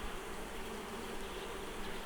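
Honey bees drone steadily around an open hive during a weekly inspection, a dense continuous buzz filling the whole stretch at close range with no pauses.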